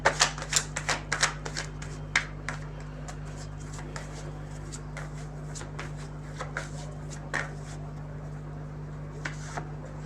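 Tarot cards for a love reading being shuffled by hand, a quick run of crisp riffling flutters that thins into scattered, softer card slaps against a steady low electrical hum.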